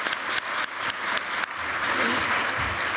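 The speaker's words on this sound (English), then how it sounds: "I would like to a round of applause for everybody who has made this event possible" Audience applause at the opening of an international congress on justice with a gender perspective, a dense steady roar of many hands with a few sharp nearby claps early on, continuing without speech.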